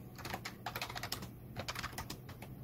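Steady run of quick keystrokes as someone types code on a computer keyboard, close and clear, clicking in dense bursts with brief pauses and no voices.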